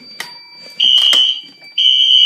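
A piercing electronic fire alarm tone sounds in two loud steady bursts during a system test, with brief clicks and a faint background hum between them.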